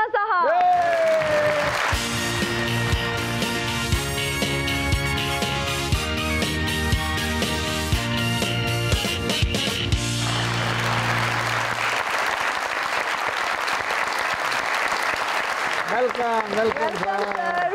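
A studio audience applauds as a guest, a Pakistani film actor known for villain roles, walks on; sustained clapping runs under a host's voice and background music, then fades as talk continues.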